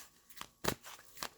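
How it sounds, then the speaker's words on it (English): Cards drawn from an angels and ancestors oracle deck, three soft papery flicks and slides close up and quiet, the middle one the loudest. "I'll draw 3 or 4 cards from there."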